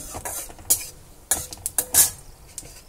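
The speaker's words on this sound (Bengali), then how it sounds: "ফোড়নটা নাড়াচাড়া করে ভেজে নিলাম।" Whole spices (bay leaf, cinnamon pieces, green cardamom, cloves and cumin) tempering in hot oil in a pan for a vegetarian mushroom dish, with a faint sizzle under several sharp scrapes and clinks of a spoon stirring against the metal.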